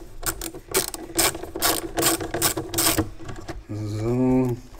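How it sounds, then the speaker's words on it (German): Bursts of ratchet clicking from unscrewing nuts on a BMW E39 facelift headlight reflector mount, several quick close runs, followed by a short voiced hum or tone. "hier müssen wir abschrauben"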